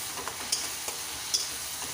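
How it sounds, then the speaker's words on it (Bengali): Spice masala sizzles and fries in a pan over high flame for a tangra fish curry, with a steady hiss and soft scraping stir strokes at close range. "ভালো করে একটু ঘেটে ঘেটে দিতে হবে যাতে মশলাটা গ্রেভি আকার হয়ে যায়।"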